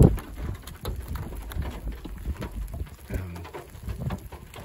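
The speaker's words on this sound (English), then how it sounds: "it's starting to rain, and it's about starting to hail" Rain and small hailstones fall during a storm, a dense scatter of light taps and patters on nearby surfaces with irregular sharper ticks, steady throughout and fairly close.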